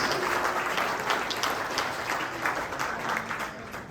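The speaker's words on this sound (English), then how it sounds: "Let's have one more round of applause" Sustained applause from a sizable crowd at a volleyball awards banquet, dense steady clapping that holds at a loud level for several seconds.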